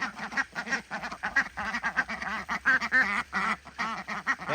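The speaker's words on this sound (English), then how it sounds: "they sure do sound like they're quacking." Ducks on a farm quacking repeatedly in a busy chorus of overlapping calls, close and loud, with a few honking notes mixed in.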